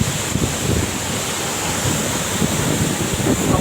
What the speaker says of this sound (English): Shallang waterfall